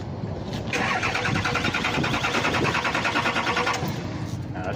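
A vehicle engine cranks and catches, runs roughly at a steady mid-pitched rumble for a few seconds, then sputters and dies out, close and loud.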